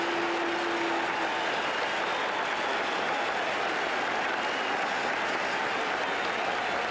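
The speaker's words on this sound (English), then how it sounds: "let's listen to the ovation for Yastrzemski" A Fenway Park crowd gives Carl Yastrzemski a sustained ovation during the 1978 AL East playoff between the Yankees and Red Sox, a dense, steady roar of cheering and applause heard from a distance.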